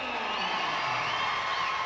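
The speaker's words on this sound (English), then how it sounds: "It's a big cheer for Eric Witzel." Arena crowd at a minor-league ice hockey game between Roanoke and Knoxville, a broad, steady wash of cheering and whoops, moderately loud and distant-sounding, with a commentator's voice running underneath.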